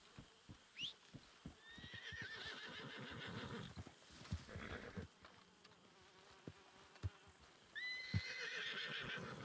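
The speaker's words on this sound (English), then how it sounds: "You should probably move your horse, Maple." A horse in a role-play video game whinnies twice loudly while a rapid, steady clip-clop of hooves runs underneath, joined by a buzzing insect-like drone, all close and without talk.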